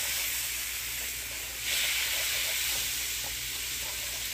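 A whisk stirs a sizzling mixture around in a pan, making a continuous steamy hiss that flares up brighter halfway through, with faint scraping underneath and no voices.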